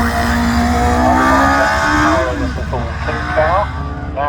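A Fisher Fury Spider race car with a 3.2 litre engine accelerates hard up a hillclimb course, a loud rising engine roar that climbs through gears with sharp revving shifts, while a commentator's voice is heard over it.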